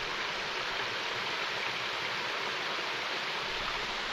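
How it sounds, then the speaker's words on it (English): A small waterfall and stream trickle past beside the River Esk in Scotland, a steady, close, full rushing wash of water that carries on unbroken throughout, with no voices. "A little waterfall, a little stream trickling past, making its way into the wild waters of the River Esk."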